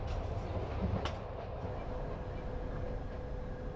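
Trans-Siberian passenger train rolling along its rails on a morning run, a steady close rumble with low wheel-on-track clatter and faint interior hum, no speech.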